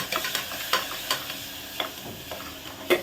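Onions and tomatoes sautéing in a pan for a paneer dish, with a steady soft sizzle and repeated light scrapes and taps of a spoon stirring at an uneven rhythm, close and fairly quiet.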